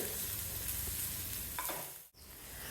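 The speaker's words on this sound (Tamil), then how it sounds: "3 பச்சை மிளகாய் முழுசாக கீறினது, அதோட கொஞ்சம் கருவேப்பிலை, 1 நிமிஷம் வரைக்கும் வதக்கிட்டு" Onion, slit green chillies and curry leaves sautéing for moong dal sambar: a steady close sizzle with light stirring, then a brief clunk and a momentary dip before the frying hiss carries on.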